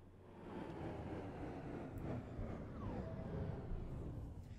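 Green train rolling past in the Train Drive ATS 2 railway game, a steady low rumble of wheels and carriages holding at an even, fairly loud level for several seconds with no talk over it.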